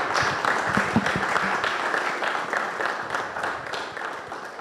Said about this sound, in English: So let's show our gratitude with a round of applause for our host, Dr. Daniel Macaulay.